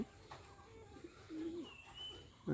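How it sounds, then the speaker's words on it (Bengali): Bombay pigeons perched on a rooftop give soft, low cooing calls, one longer rolling coo standing out in the middle, fairly faint against a quiet outdoor background, with no talking. "কবে বৈশাও ডাকতেছে অনেক সুন্দর ডাকে কবুতরগুলো"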